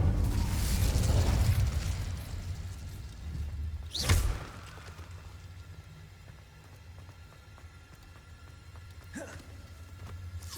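An Incendio fire spell is cast in the wizarding game Hogwarts Legacy, with a rushing burst of flame that fades, then sharp whooshing spell bursts rising over a low rumbling game ambience.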